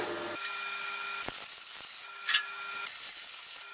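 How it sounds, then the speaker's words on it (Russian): A nut being welded onto a rivet gives a quiet, steady electric hiss with a brief crackling flare partway through, heard close and with no talking. "ровно по центру нашей заклепки привариваем гайку"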